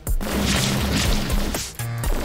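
Stick Fight: The Game explosions boom and crash in quick succession, loud and close, with heavy thuds and a brief gap before another blast.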